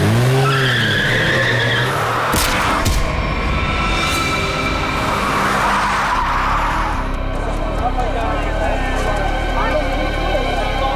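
A recklessly driven car skids with a loud tyre squeal over the first few seconds, followed by a rough engine and road rumble, while voices talk over the scene.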